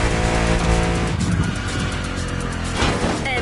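A Citroën GT and a Renault Trésor race in the Motorfest driving game in beautiful weather: loud, close engine roar with tire squeal and skidding, staying constant throughout, with no voices.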